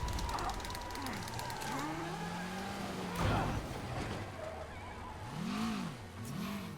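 Car engine hum with rising and falling revs from a car driving in the Spider-Man video game, heard steadily through the whole stretch with a brief thump partway and game sound effects layered around it.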